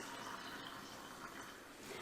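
Hot water pours steadily into glass canning jars while home-canning chili beans, a continuous quiet splashing and filling hiss with no talk over it.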